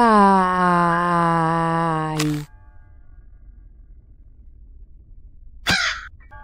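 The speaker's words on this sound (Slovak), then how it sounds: "Tej vrany mám plné zuby." A single loud crow caws once at close range, a harsh drawn-out call, followed by a quiet pause and then a short, sharp second burst, likely another caw, near the end.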